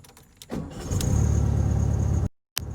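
A VW Beetle engine cranks briefly, catches and settles into a loud, close, steady idle, cuts out for a moment, then picks up again.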